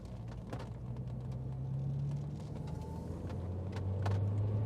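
Honda S2000 convertible driving, its engine rumbling steadily with a pitch that drops and climbs again as it shifts down into second gear, small mechanical knocks and light road noise throughout.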